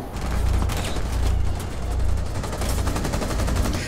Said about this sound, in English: I was shooting at his hiding spot